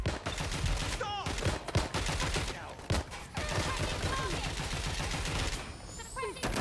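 Dense bursts of rapid automatic gunfire from the video game Watch Dogs: Legion, loud and continuous for several seconds, with overlapping shots, sharp impacts and faint shouted voices in the mix.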